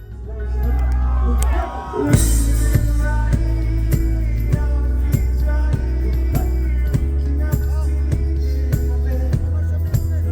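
A lively concert crowd at an outdoor festival in Shillong keeps up steady, loud cheering and whooping, with a sharp swell of shouts just after two seconds. Strong rhythmic music thumps beneath the crowd throughout.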